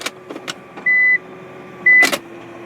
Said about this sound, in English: there's a lot of noises that the drivetrain makes. And then when you even just shift through the gears like in park